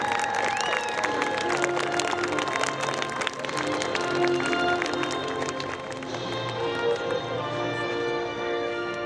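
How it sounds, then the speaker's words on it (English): A large crowd at EAA AirVenture 2026 claps and cheers continuously at a distance during a drone flag show, with dense clattering applause and some background voices and tones mixed in. "Let's give them a round of applause."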